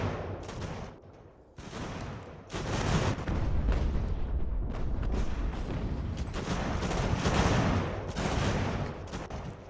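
Mortar and artillery fire from the Ultimate General: American Revolution video game, a continuous rumble of booms and musket volleys, loud and steady, with no talking.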